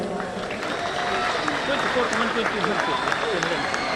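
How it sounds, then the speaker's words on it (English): An audience applauds award recipients at an Independence Day awards ceremony in Aizawl, a steady wash of clapping that holds across the moment, with faint voices and crowd murmur mixed in underneath. "Ladies and gentlemen, please give them a big round of applause."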